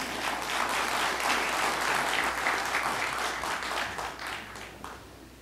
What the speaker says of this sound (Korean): 힘찬 박수로 환영해 주십시오